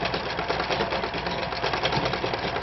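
A sewing machine runs steadily while stitching a dart on an A-line blouse, its fast even needle rhythm continuous and close, with no talking.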